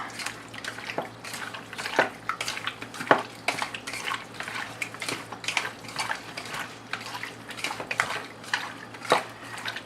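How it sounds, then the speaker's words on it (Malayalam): Raw chicken being mixed by hand with salt and masala in a bowl, a steady run of wet squelching and light clinking strokes, close up with no talk. "ഇനി നല്ലപോലെ മിക്സ് ചെയ്യുക"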